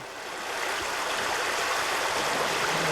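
River water rushes over rocks along a Lake Superior canoe route, a steady close burbling stream with constant splashing and no voices.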